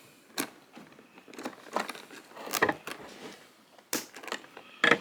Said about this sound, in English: I got my pair of trusty scissors here, and I'm going to now cut the thing off.